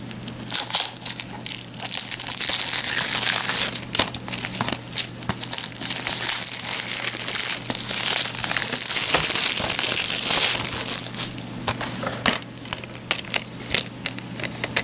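Plastic wrapping on an anime DVD case crinkles and crackles loudly and almost continuously at close range, in dense crunchy bursts with brief dips.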